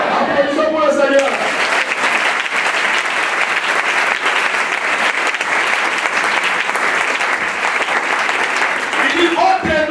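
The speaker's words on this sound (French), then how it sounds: "Applaudissons pour le Seigneur" A church congregation breaks into sustained, loud applause for the Lord, a thick steady roar of many clapping hands lasting several seconds, with a voice speaking briefly at the start and end.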